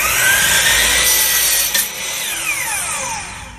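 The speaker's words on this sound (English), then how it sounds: "the tone of the saw as I'm pushing the wood through" A table saw whines steadily as it cuts through wood, its pitch dipping and shifting with the load, loud and close.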